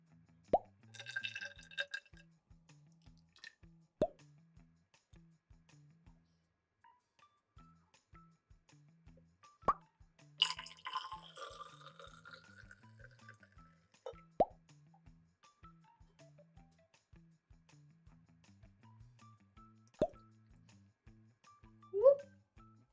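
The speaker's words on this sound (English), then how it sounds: "We are going to add them to this graduated cylinder to see their relative density." Liquids are poured into a graduated cylinder to build a density column, giving scattered, distinct plops and drips with long quiet gaps between them.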